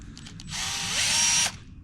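A drill trims the cut end of tubing on a Charger Magnum Hellcat station wagon build, giving one short close whirring burst of about a second between quiet handling noises.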